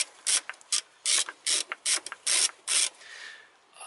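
A hand ratchet wrench turned in repeated bursts to loosen a bolt on a car, giving about eight crisp clicking runs in a steady rhythm, close and clear with no talk.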